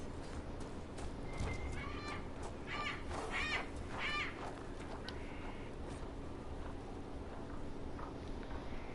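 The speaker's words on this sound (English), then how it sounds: "These are very noisy birds." Noisy birds in the Dragon Age: Inquisition video game give a cluster of harsh, cawing calls near the middle over a quiet ambient game backdrop, with no voices.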